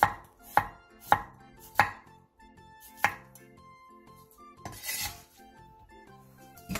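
A knife slices three cucumbers into thin rounds about 0.2 cm thick for a stir-fried side dish, giving sharp separate chops on a cutting board, several in a quick run, then a pause and a few more, close up.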